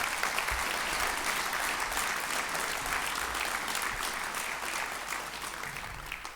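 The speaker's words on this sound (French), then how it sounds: "Vous pouvez les applaudir encore une fois." Audience applause after a list of young people's names is read out, a dense, even roar of many hands clapping that holds steady and eases slightly toward the end, with no voices over it.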